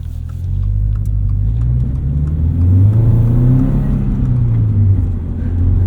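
Subaru BRZ engine while driving, a loud, close, steady rumble from inside the car with the pitch rising and falling slightly as the revs change.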